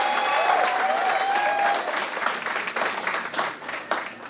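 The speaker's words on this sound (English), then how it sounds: "please let's give a round of applause to LECDA Houston" A convention audience in Houston breaks into sustained applause, dense clapping that fills the room and then tapers and thins toward the end, with a faint voice briefly audible at the start.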